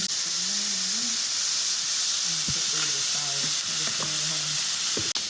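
Burger patties sizzle and crackle steadily in a cast iron pan on medium heat with no added oil, a close, continuous hiss with a faint low voice murmuring under it and a sharp tap near the end.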